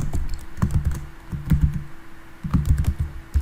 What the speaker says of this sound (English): I will type it up here in Notepad for you